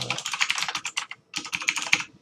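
Rapid keystrokes on a computer keyboard as an admin password is entered, a quick run of clicks, a brief pause, then another burst of typing, close and clear.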